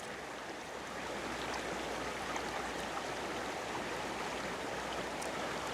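Flowing stream water with more water than usual, ice cold, at an outdoor metal detecting site in the UK, a steady broadband rush that stays loud and unbroken throughout, with no talk.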